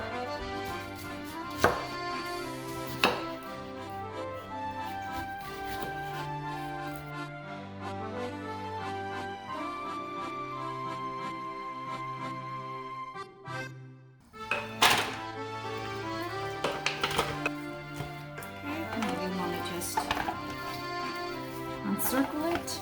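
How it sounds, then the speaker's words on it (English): A knife chops an onion into rings on a cutting board, giving scattered sharp thunks, a few early on and a cluster later, under steady background music. "I'm gonna chop the onion"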